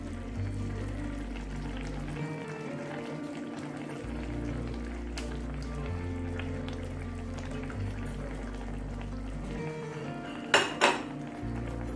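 Cooked toor dal being tipped and stirred into a pot of tamarind water at a rolling boil, a steady bubbling simmer with soft scraping and a couple of sharp clinks of a spoon against the pan near the end.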